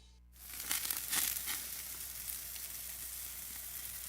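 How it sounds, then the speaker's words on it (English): Bacon bursts into loud sizzling as it hits a hot pan, a sudden crackling hiss that peaks in the first second and then settles into a steady frying spatter. "if that sizzling sound made your mouth water, you're in the right place"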